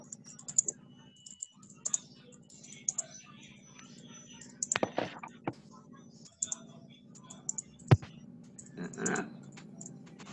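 A computer mouse clicks while a Google Classroom page is refreshed, giving scattered sharp, faint clicks and taps over a quiet room hum, with a few soft murmurs in the background.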